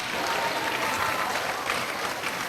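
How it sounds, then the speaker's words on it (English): Steady, dense applause from the audience at a girls' STEM camp closing ceremony, honouring Group 3's biodegradable materials project; continuous and even throughout, with no voices over it. "Please give them a resounding round of applause."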